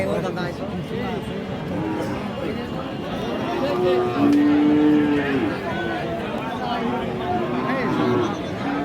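Cows at a muddy Bangladeshi village cattle market for cows and heifers give low moos amid steady crowd chatter and nearby talking, the calls fairly close and partly masked by voices.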